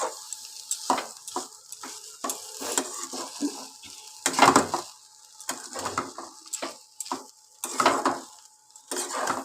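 Chow mein tossed with vegetables in a pan, a series of close scraping and clattering stirs of a utensil against the metal over a soft sizzle, with quiet gaps between strokes.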